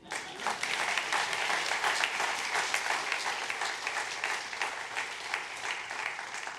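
Audience at a public policy building dedication ceremony applauding, dense steady clapping from a large crowd that holds strong throughout and tapers slightly toward the end.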